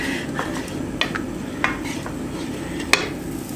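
Onion and peppers sauté in a pan while a utensil stirs and scrapes, producing a soft steady sizzle punctuated by several sharp clinks of metal against the pan.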